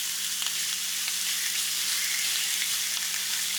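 Seafood sizzles steadily on a hot grill, a dense, even frying hiss that holds at close range with no talk over it.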